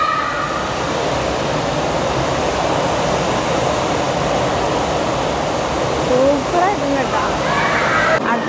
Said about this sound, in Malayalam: അടുത്ത് നമ്മൾ പോണ വാട്ടർഫാൾസ് ഇൻഫിനിറ്റിയാണ് കേട്ടോ.